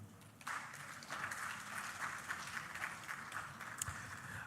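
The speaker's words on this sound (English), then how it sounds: "with a round of applause, welcome our moderator for this session" Audience applause welcoming a session moderator at a conference-style peace forum in Accra, a steady, moderately distant wash of clapping that swells at the start and holds evenly to the end with no voices over it.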